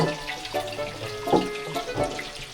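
Water running from a tap into a bottle close by, a gurgling, splashing stream with small irregular bursts that shift in pitch as it fills.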